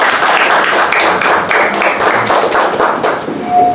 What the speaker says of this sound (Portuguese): Convido a todos para saudarmos o pavilhão nacional com uma salva de palmas